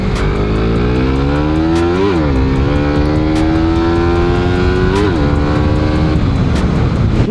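A Suzuki Raider R150 motorcycle engine runs loud and close, idling steadily with two quick revs that rise and fall before settling back to a steady idle.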